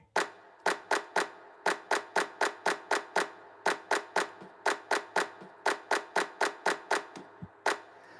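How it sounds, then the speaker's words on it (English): Hands clap crisply in a steady beat during a band rehearsal, about twenty sharp claps in regular groups with short pauses between sets, close and clear with no talking. "And here's the clap part."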